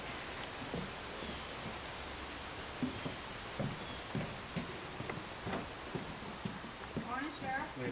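A horse on a Western film set walks with irregular, moderately faint hoof clip-clops over a steady outdoor hiss, the steps growing a little more distinct toward the end.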